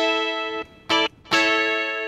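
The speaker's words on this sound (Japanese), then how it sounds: "リバーブオフ" A dry electric guitar, an LA-240KK with EMG pickups, runs through a BOSS GT-1 with reverb switched off, giving three clear chord strikes that cut off short with little lingering tail.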